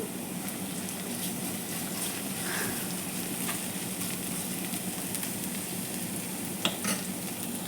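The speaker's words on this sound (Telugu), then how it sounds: "ఉల్లిపాయలు అయితే ఫ్రై చేస్తున్నాను వెల్లుల్లి పేస్ట్ వేసానండి" Onions and garlic paste frying in a pan, a soft continuous sizzle with occasional faint stirring and a brief clink near the end, fairly quiet and with no one talking.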